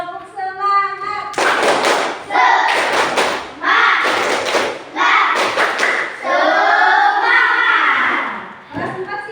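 A fourth-grade class performs the 'tepuk semangat' clapping chant: loud, close bursts of rhythmic group clapping and thumping, with children's voices chanting in unison between the claps.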